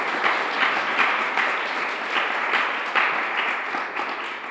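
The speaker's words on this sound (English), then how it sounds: "if we could all give a round of applause to those six fellows." Audience applause for six fellows at a Library of Congress event, a steady, moderately loud wash of clapping from a seated crowd with slight swells, no voices.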